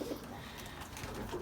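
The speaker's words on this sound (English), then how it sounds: "these are my wee Irish tumblers, very nice small wee pigeons" Irish tumbler pigeons coo softly in a loft, a low steady murmur that runs through the whole moment with no talking over it.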